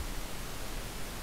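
Steady pink noise serves as a mixing reference, a flat, even hiss across the whole range that holds at constant level without any gaps or voices.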